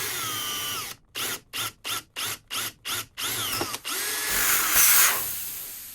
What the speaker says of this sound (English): I'm going to drill a hole right here with a little bit of pressure in the can.